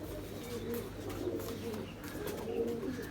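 Pigeon cooing in low, repeated throaty phrases at fairly close range, soft and rolling, with faint background rustle.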